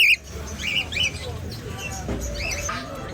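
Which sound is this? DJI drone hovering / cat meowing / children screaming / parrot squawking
parrot squawking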